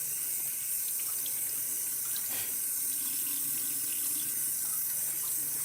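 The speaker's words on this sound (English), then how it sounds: "Right now, I'm gonna wash my hands" Tap water runs steadily into a sink while hands are washed beneath it, a continuous close hiss and splash with faint shifting splatters.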